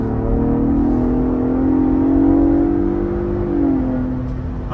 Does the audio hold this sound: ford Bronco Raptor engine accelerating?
yes